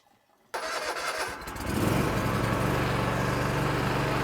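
A lawn mower's petrol engine, back in use after a long idle spell, starts abruptly after a moment of quiet and quickly builds into a loud, steady, close running roar.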